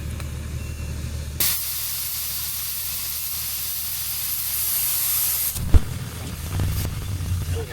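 Air hisses steadily out of a 4WD tyre through a deflator set to about 30, a loud continuous rush that cuts off abruptly, followed by a clunk and some faint handling noises.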